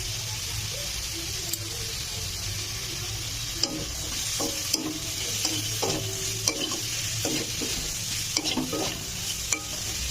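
Carrots added to onions and stirred in a hot frying pan, a steady sizzle with scattered scraping clicks of the spatula, close and moderately loud throughout.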